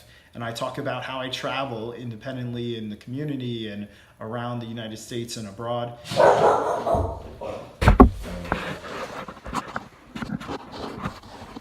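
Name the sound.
deaf dog barking at the mailman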